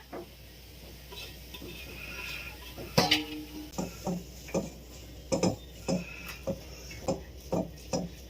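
Paneer and mixed herbs are stirred in a pan for a pizza, a spatula scraping in steady rhythmic strokes, about nine distinct scrapes close by over a faint sizzle.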